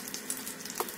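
Butter and a little oil sizzle softly in a pan for a Monte Cristo sandwich, a faint, continuous crackle over a brief moment.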